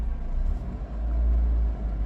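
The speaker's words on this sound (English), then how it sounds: "Let's go for a little spin round this private car park" A low-mileage classic car drives slowly round a private car park, its engine giving a deep, steady rumble that swells and dips slightly, close and alone without talk.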